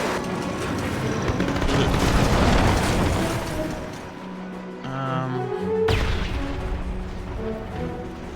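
Gunfire and explosions in the Men of War 2 video game as German troops open fire on enemy infantry, with dense overlapping bursts, booms and pops for several seconds, a brief lull, then a sharp blast followed by renewed firing.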